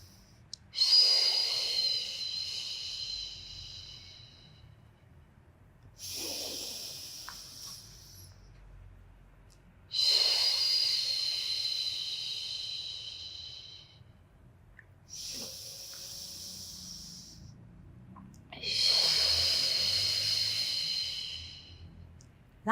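Slow, deliberate breaths during a Pilates exercise, four long airy exhalations with hissing, close to the microphone and evenly spaced by quiet inhalation gaps.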